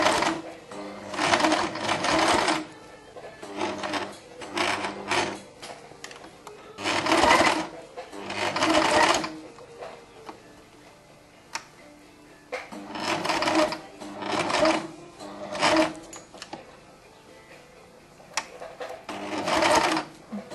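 A sewing machine topstitching a silk satin shirt runs in short bursts of rapid mechanical whirring, stopping and starting repeatedly with quiet pauses between runs, close and clear.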